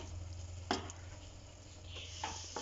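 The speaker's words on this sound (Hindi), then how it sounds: "अंडा ऐड करके इसको अच्छे से मिक्स करें।" Egg being stirred into ridge gourd masala frying in oil, a quiet steady sizzle with a couple of brief spoon scrapes.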